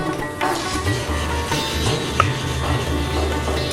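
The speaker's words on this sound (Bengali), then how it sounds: "এই মেথি ভাজার পর আমি তুলে নিচ্ছি" Fenugreek seeds frying in hot oil for a Bengali rohu or katla fish curry, giving a steady sizzle with scraping stirs from a spoon in the pan, close and continuous, with no talk.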